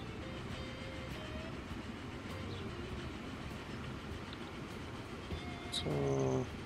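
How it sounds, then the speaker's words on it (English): Train ride in the railway building game Transport Fever 2: a steady rumbling roll of wheels on track throughout, with a short rising horn-like tone near the end. "Let's take a ride on this train as the last thing we do."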